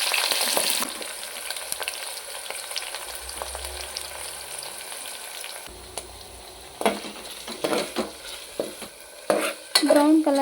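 Onions fry and get stirred in hot oil for a palav, a steady sizzle with scraping and clinking of a spoon against the pan growing louder and busier toward the end, with no voices.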